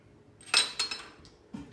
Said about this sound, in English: I'll just knock my welding helmet on the floor